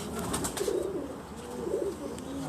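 Teddy pigeons give low, soft rolling coos, repeated in short bursts close by over a steady background hiss.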